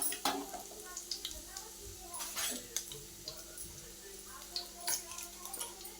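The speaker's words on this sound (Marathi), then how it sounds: "हे बघा, छान मस्त लसूण मी भाजून घेते।" Garlic roasting in a pan over low heat for a village-style okra bhaji, with a soft sizzle and scattered ticks and scrapes from stirring.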